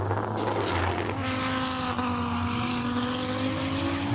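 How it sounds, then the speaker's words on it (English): A race car at the Simola Hillclimb climbs the course, its engine note rising in pitch as it accelerates up the hill, heard from a distance over crowd ambience, with no talk. "Let's just hear this car coming up here."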